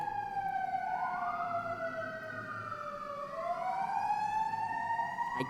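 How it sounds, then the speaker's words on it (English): A siren outside a Lowell City Council meeting rises and falls slowly while a second siren tone crosses it, both sustained and moderately distant, with no voices. "I can't compete with the siren."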